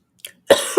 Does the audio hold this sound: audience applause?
no